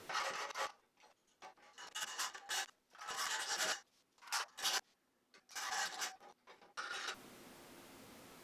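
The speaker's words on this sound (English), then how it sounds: "Now we'll dress that up with the file and make 2 more." A hand file dressing a metal antique window latch, loud rhythmic rasping strokes in close bursts separated by short pauses, ending with a faint steady hiss.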